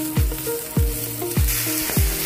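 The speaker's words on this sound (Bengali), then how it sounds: "এবার এখানে সামান্য একটু রিফাইন অয়েল দিয়ে দিয়েছি, এর মধ্যে রসুনটা দিয়ে দেবো, রসুনটা দিয়ে হালকা ভেজে নেব রসুনটাকে।" Garlic frying lightly in a little refined oil, a steady close sizzle broken by four regular low thumps, like a spoon or pan knocking, with no voices.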